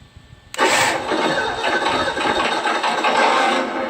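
A Sense ESS-ONE onboard sound unit in a Traxxas RC truck fires up with a sudden simulated engine start, then settles into a loud, steady rumbling idle with slight pulsing.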